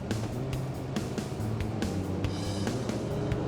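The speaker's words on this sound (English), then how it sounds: "You can just hear that engine rumble." A huge classic car's engine rumbles steadily and loud and near as it is given gas and accelerates, a dense continuous low roar throughout.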